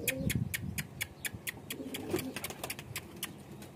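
Soft, low cooing of Methay pigeons murmurs on and off, with a steady series of sharp little clicks and taps over a quiet background.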